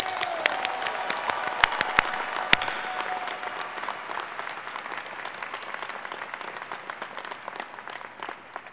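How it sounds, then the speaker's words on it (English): An audience applauds graduates at the 2014 Heinz College diploma ceremony, a steady, continuous wash of clapping from a large crowd in a hall that is loudest at first and then thins and softens toward the end. "Please join me in a well-deserved round of applause for our graduates' outstanding accomplishments."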